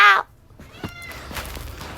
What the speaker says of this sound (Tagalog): may pusa kami ito. Narinig niyo ba siya?